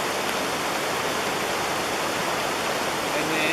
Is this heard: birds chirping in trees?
no